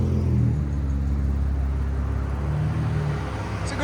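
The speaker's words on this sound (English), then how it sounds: "So let's see the two-step." A supercharged 3.0L V6 Audi S4 with downpipes and a 14-inch Magnaflow exhaust holds a two-step launch limiter, giving a loud, steady, close rumbling drone with a slight dip and recovery partway through.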